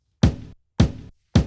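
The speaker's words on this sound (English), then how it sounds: "that is the sound of him lifting the pedal up," A kick drum from a sampled drum break, three short isolated thuds with a papery rattle in their tails, spaced evenly and fairly quiet, as from the drummer's pedal lifting back up.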